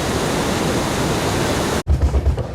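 The falls at Iguazu in Argentina roar as a loud, dense, hissing rush of water. The steady roar cuts off abruptly near the end, and a few low thuds follow.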